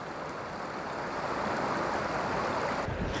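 A rocky creek flows close by with a steady, broadband rushing and burbling that continues unbroken, and no one speaks.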